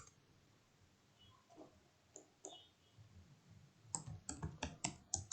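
Faint, sparse clicks of a computer mouse come first, then a quick run of sharper, louder clicks near the end, close to the microphone in a quiet room.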